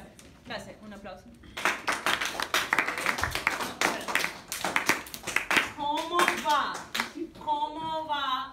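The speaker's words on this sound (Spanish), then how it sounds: "Un aplauso." A classroom audience claps in a burst of sharp, uneven handclaps that builds and then fades, with people talking before it and talking again over the end.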